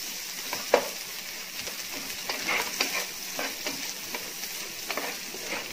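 Thinly sliced onions fry in butter in a pan for restaurant-style dal makhani, a continuous moderate sizzle broken by regular scraping stirs from a spatula, with no talking.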